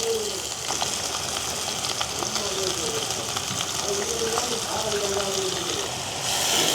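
Onion, green chili and curry leaves frying in a pan in a village kitchen at night, a steady sizzle with faint stirring, continuous throughout and briefly louder near the end.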